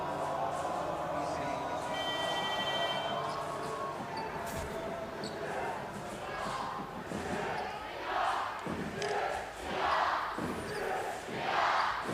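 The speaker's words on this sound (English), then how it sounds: "Great energy in the crowd tonight" A large arena crowd at a Basketball Champions League game, Darüssafaka against BAXI Manresa, roars steadily with cheering swells and shouts, while a commentator talks throughout and occasional ball bounces and squeaks come through.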